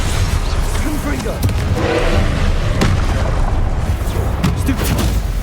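Confringo fire spell blasts in the wizarding action game Hogwarts Legacy, loud booming impacts and bursts layered over dense, continuous combat noise and music.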